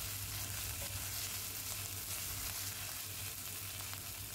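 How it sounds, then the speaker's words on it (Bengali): Ginger and green chili paste fries in a hot pan over low flame while being stirred, a dense continuous sizzle with crackling spits and occasional scraping, close and steady with no talk. "কারণ আদাটা প্রচুর ছিটচ্ছিল"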